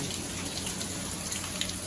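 Heavy rain pours down in a steady, dense hiss of drops with no pauses, loud and close throughout, with no voices over it.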